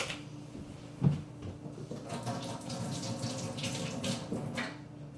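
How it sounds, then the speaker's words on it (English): Hands being washed under a running kitchen tap, a steady close stream of water with a knock near the start, like a cupboard or tap handle, and no talking. "Then we're going to go and wash our hands."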